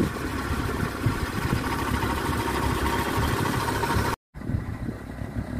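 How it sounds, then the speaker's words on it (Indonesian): A 1993 Suzuki Jimny 4x4 engine runs close by with a loud, rough, steady drone, cut by a brief gap and then continuing more quietly. "Ini kita gas. Responsif sekali ini mesinnya, sangat ringan."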